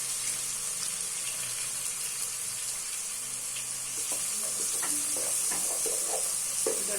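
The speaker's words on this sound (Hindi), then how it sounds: "तो अभी हम डालते हैं इसमें लहसुन अदरक का पेस्ट 2 टेबल स्पून, और साथ ही हम इसको डाल देते हैं ना ये जो खड़े मसाले हमारे पास हैं।" Garlic ginger paste and whole spices hit a hot pan of oil, giving a continuous loud sizzle with scraping stirs and small knocks rising near the end.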